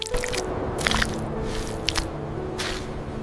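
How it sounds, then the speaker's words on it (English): Soft wet squishing steps pressing into muddy jungle ground, a few irregular squelches close by over a faint steady background hum. "Their large feet press into soft, muddy ground, leaving deep footprints behind."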